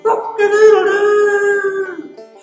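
A single drawn-out crowing call, loud and wavering, sounding like a voice imitating a rooster rather than a real bird.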